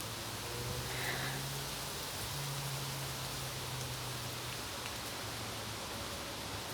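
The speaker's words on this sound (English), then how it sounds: "just feeling that rain on the skin in the woodlands" Heavy rain hisses steadily through woodland as a dense, even wash of noise, with a low hum running beneath and no distinct drops standing out.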